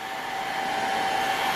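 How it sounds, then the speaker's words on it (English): Hair dryer blowing steadily to warm leather on a tactical wallet and bracelet strop, a continuous close whooshing airflow with a faint tonal whine, alone with no talk. "So you can just run your hairdryer over there a little bit and warm up the leather."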